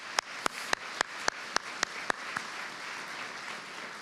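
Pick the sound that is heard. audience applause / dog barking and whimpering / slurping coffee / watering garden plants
audience applause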